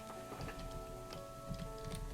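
Steady rain patters in the game Rise to Ruins, with scattered droplet ticks and a low constant hum underneath; no talking.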